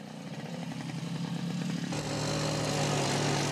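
A small motorcycle engine drones nearby on an Australian farm, its pitch rising as it revs, then settling into a steady, louder buzz.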